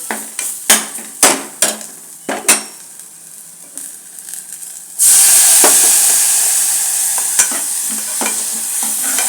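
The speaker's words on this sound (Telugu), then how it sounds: "మిగతా ఆ నూనెలోనే మసాలా వేపుతున్నాను" Spice masala, including clove and cinnamon, fries in leftover oil in a pan after dry fish is cooked for a beetroot dish, with stirring taps at first, then a loud, steady sizzle close by.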